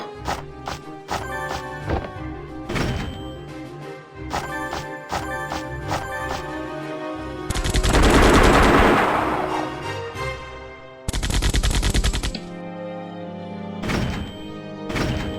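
Machine gun fire and battle effects from the strategy game European War 3, heavy thuds and bursts recurring irregularly with a dense sustained barrage in the middle, loud and without talk.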